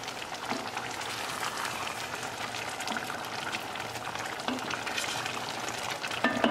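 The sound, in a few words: stirring chickpeas and black beans cooking in pot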